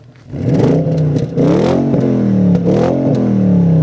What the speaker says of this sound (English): Josh, let's hear that exhaust.